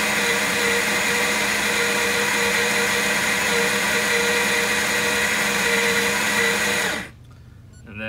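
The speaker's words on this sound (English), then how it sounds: "it's gonna grind the coffee for you" A Baratza Sette 270Wi coffee grinder grinding beans, a loud, steady, close motor whir that runs for about seven seconds, then stops abruptly, leaving quiet room tone.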